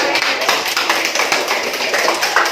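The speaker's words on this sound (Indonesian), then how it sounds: "Jadi tepuk tangan untuk kita." Clapping hands from a class during a counseling session ice-breaking activity, a dense run of sharp broadband claps filling the whole stretch, fairly loud and steady with no talk.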